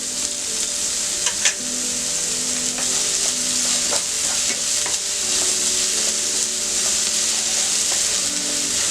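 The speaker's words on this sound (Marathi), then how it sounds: "दोन ते 3 मिनिटं कांदा परतून घेतला आहे" Onion fries on full heat for a pumpkin bhaji and is stirred in a pan, a steady close sizzle broken by scraping spoon strokes and occasional clinks against the metal.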